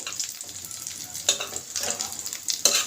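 Shidol shutki bora (dried-fish fritters) sizzle loudly in hot frying oil as they are lifted out one by one, with a steady crackle and bursts of spattering, heard close with no voices.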